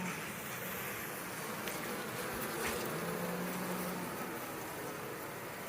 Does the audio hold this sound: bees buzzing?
yes